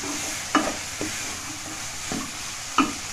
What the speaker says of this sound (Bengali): মিডিয়াম ফ্লেমে নেড়ে নিচ্ছি